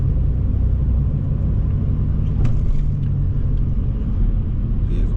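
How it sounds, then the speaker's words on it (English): Heard from inside a vehicle, a steady low engine and road rumble continues while traffic slows at an intersection with commercial businesses, fairly loud and unbroken, with no clear change in pitch. "Vehicle slowing down,"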